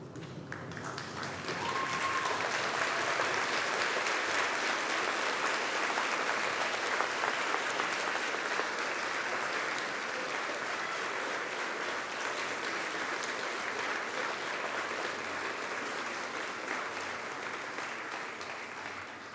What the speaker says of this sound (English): turn round and applaud the very people who have supported you to get here